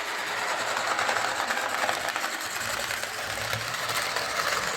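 A small electric motor whirs steadily with a faint mechanical rattle, a Replica Railways Class 45 model diesel locomotive running continuously along its track, fairly close.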